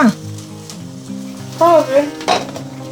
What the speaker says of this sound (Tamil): நல்லா வதங்கிட்டு வதங்கி இன்னும் கொஞ்சம் நேரத்தில் வதங்கிடும்